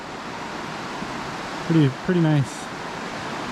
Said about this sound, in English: this is the Murtle River